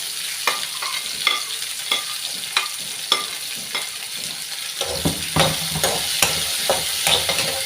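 Okra sizzles in a pan as a spoon stirs it repeatedly to cook off the sliminess. Regular scraping strokes sound close over a continuous frying hiss, with no voices.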